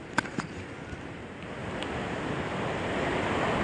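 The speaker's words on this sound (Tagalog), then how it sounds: "Yan po ang aming dagat ngayon." Sea waves during a typhoon, a steady wash of surf mixed with wind rush, fairly faint and slowly building louder, with a couple of brief knocks near the start.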